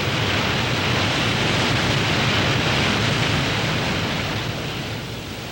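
Brooks, streams and waterfalls rush through a Blue Ridge forest. Loud running water holds a constant broadband roar that tapers slightly at the end.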